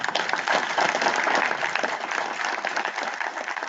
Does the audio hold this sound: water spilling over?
no